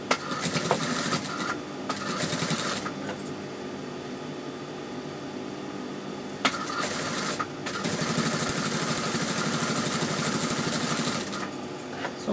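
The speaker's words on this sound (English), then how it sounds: "now we are going to top stitch this" Sewing machine top stitching lace onto a fabric panel, running in steady sustained bursts with short pauses between passes, close and fairly loud, with no talking.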